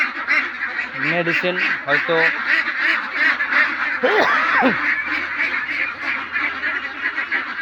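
Ducks quacking on a duck farm, their nasal calls coming in short bursts under a steady background as a person talks over them.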